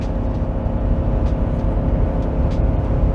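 Chevy 2500 with the 6.6L gas L8T engine held at about 4,000 RPM while towing, a steady loud low drone with a constant rumble and no breaks, heard from inside the cab.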